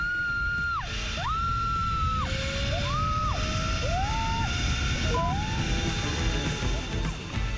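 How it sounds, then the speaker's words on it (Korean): People screaming on an amusement ride in Gangjin, a sustained crowd of yells under a loud rushing roar of wind and motion, with a long falling whistle-like tone sweeping through. "자동 비명 발사도 잠시."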